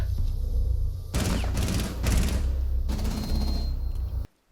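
Rapid gunfire in the video game Rainbow Six Siege, loud repeated bursts of shots separated by brief gaps, ending abruptly in near silence.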